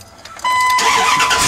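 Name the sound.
Dodge Ram truck engine starting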